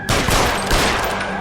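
Rapid burst of gunfire in the LA Noire video game, a dense volley of loud overlapping shots lasting about a second and a half with no talk.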